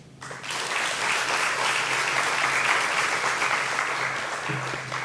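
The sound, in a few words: audience applause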